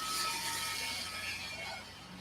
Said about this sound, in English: that's the county spraying for mosquitoes